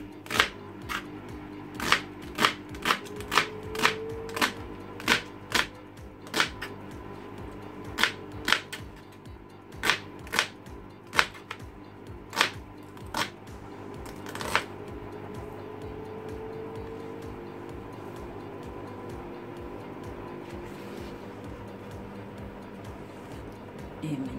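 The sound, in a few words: cutting a leek with a knife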